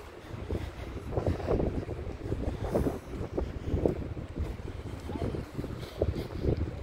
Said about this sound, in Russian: Вот вы слышите ветер.